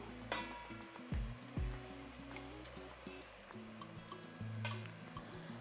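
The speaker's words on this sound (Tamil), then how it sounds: "இதில் வந்து நாலு தக்காளி இதையும் சேர்த்துக்கலாம் நல்லா வதங்கட்டும்" Tomatoes sautéing in a hot pan of oil for mutton dum biryani, a steady low sizzle with a few knocks of a spoon against the pan and faint background music, no talking.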